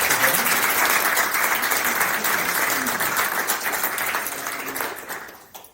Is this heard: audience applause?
yes